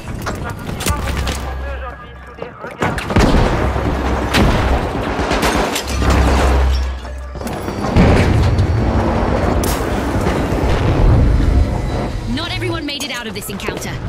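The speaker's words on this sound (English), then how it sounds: "Use your pyro grenade." Pyro grenade blast and ongoing gunfire in The Finals, loud booming bursts and rattling shots in a chaotic firefight, with game announcer-style voice talking over the action.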